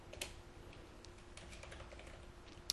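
Steady light typing on a computer keyboard in translation software, many quick soft key taps in an irregular rhythm over a faint background hum, with no talking.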